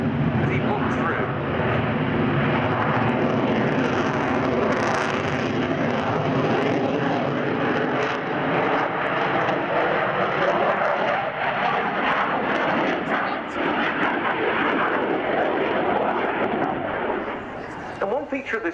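A delta canard fighter jet with its undercarriage down approaches at an air show, a loud, continuous roar of jet engines holding steady and broad for the whole stretch, easing slightly near the end, with speech faintly present beneath it.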